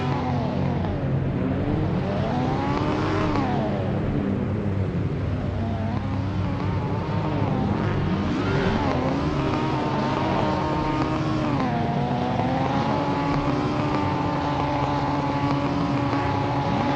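Racing car engines roar on the grid of a 1975 Silverstone race in the Assetto Corsa game, with an Escort and an Alfa among them. The loud, layered engines rise and fall in pitch as they rev and sweep past.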